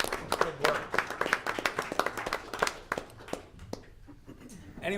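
Brief applause at a board meeting: a cluster of claps from a small audience, fairly close, thinning out and fading toward the end, with some voices underneath.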